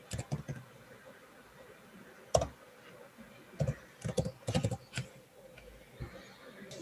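Quiet keyboard typing with scattered keystrokes and short bursts of several clicks, fairly faint and close, with pauses between the bursts.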